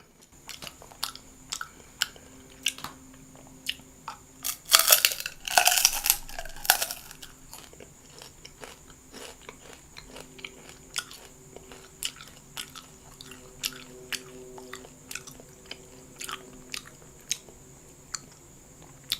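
Baked crispy seaweed snack crunched between the teeth, close and dry, with steady small crackling bites throughout and a louder burst of crunching a few seconds in, no talking.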